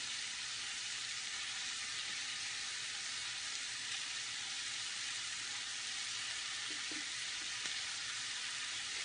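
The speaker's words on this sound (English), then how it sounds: "Now we're going to add our squash and let it cook in here too." Squash cooking in a pan for an Italian sausage casserole, giving a steady, even hiss of sizzling throughout, close and constant with no talk.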